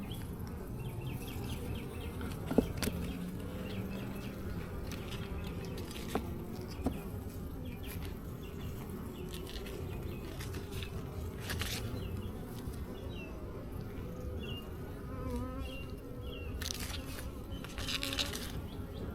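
Honey bees buzz in an opened hive during a beekeeping inspection, a dense, continuous close hum with a few louder passes from individual bees and light knocks from handling.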